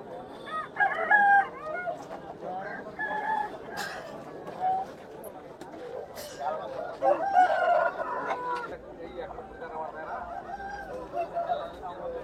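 Roosters crow repeatedly at a Saturday country chicken market, with clucking fowl nearby and people bargaining and chattering throughout.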